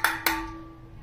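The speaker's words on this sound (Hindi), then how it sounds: "अब रूह अफ़ज़े वाले बर्तन को आप आवाज निकालोगे तो वो इस तरह से आवाज निकालते हैं" A Rooh Afza bottle is struck twice in quick succession, giving two sharp, bright taps that leave a short ringing tone fading away, with no voices.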